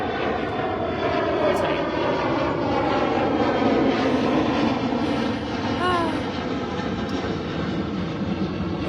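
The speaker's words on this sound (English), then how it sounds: "Now there's another airplane." An airplane passes overhead with a loud, steady engine drone that holds for nearly nine seconds, while someone speaks briefly beneath the roar.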